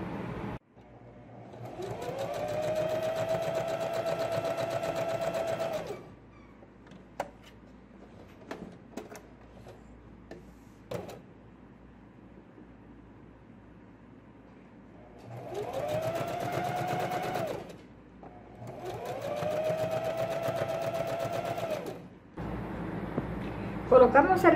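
Sewing machine stitching a girl's dress, running in steady whirring bursts of several seconds each with quiet pauses between, fairly close and moderately loud, with small handling clicks in the gaps.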